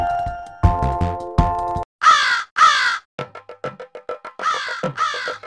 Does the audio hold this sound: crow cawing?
yes